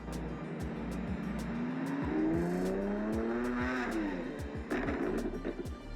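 A Lamborghini Countach LPI 800 with a naturally aspirated 6.5-litre V12 revs up through the gears, rising in pitch with sharp shift breaks, a loud close engine howl that drops back toward the end.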